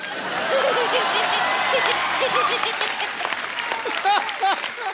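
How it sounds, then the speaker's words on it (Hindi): A studio audience at a Hindi comedy talk show claps steadily, with scattered laughter and a voice talking over the applause. "ठोको ताली ठोको"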